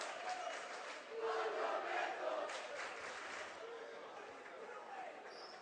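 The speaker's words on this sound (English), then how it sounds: "Got to hear it from that student body crowd over there" A crowd of high school students shouts and cheers at a basketball game in a large echoing gym, a sustained roar of many voices at moderate distance.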